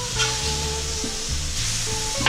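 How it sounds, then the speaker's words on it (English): Cube steaks searing in a hot pan, giving a steady, close sizzle with a low hum running beneath it and a short clatter near the end, with no talking. "we'll get a good sear on this side"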